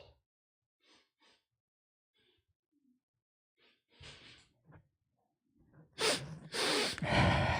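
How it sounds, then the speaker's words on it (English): Quiet pauses give way to several short nasal sniffs, then a few loud, breathy inhalations close to the microphone. "Let's sniff on camera."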